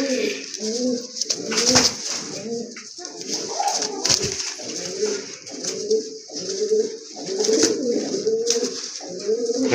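Baby pigeons among mixed pigeon breeds coo in repeated low, throaty phrases close by, with occasional sharp clicks and flutters between them.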